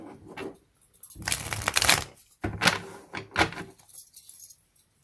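A deck of cards is handled and shuffled in short, crisp bursts of riffling and shuffling, close by and fairly loud, separated by brief quiet gaps.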